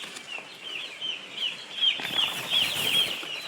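Newly arrived chicks on a poultry farm fill the space with a steady chorus of high, shrill peeping. Soft wing flutters and scuffling come from close by, and no one speaks.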